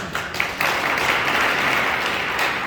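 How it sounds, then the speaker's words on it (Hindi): Steady applause from an audience at a Hindi poetry recital (kavi sammelan) in Jalna, a dense wash of many hands clapping continuously and fairly loud, with no voices over it. "आप थोड़ी ताली वाली बजा दीजिए"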